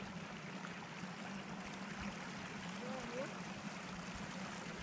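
Water at a mountain lake near Mount Shasta, California, gives a steady, even outdoor wash with a faint trickling quality that holds at one level throughout, with no speech.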